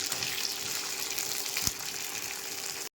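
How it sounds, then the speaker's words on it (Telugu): Garlic and green chillies fry in a pan for an amla chutney, giving a steady, loud oil sizzle throughout with one brief clatter partway through before it cuts off abruptly. "వెల్లుల్లి ఇవన్నీ వేసి బాగా వేయించుకోవాలి"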